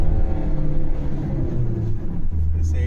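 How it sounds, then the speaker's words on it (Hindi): Car engine being revved with a harsh, leaky-pipe-like roar like a split turbo hose, actually traced to a worn engine mounting; a steady loud low rumble with tonal hum throughout, shifting pitch slightly near the end. "गाड़ी में जैसे ही रेस लेते हैं एक आवाज़ आती है।"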